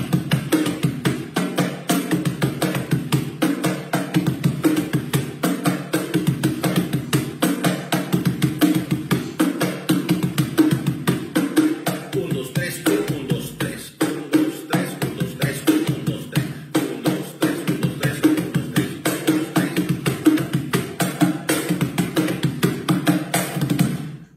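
Cajón plays a Peruvian festejo rhythm: a continuous, busy pattern of dry wooden slaps and deep bass thumps, close and steady for the whole stretch without any talking.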